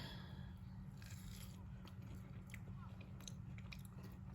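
A person chewing food close to the microphone: faint, steady mastication and soft biting crunches run continuously, with no talk.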